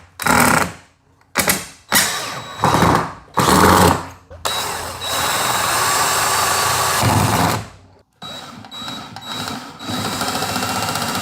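A power drill drives screws into a wall in several short, loud whirring bursts, then one long sustained run followed by more bursts, with brief pauses between.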